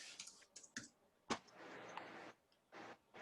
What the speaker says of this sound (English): you just start typing that in